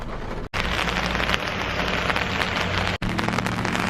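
Rain falls steadily and heavily in Gatlinburg, a dense, close, continuous hiss of drops on surfaces, cut off by two brief drops in sound, with no speech.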